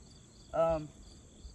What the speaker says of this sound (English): they is bees all over it, and they really are liking that sugar water